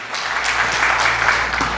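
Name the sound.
church congregation applause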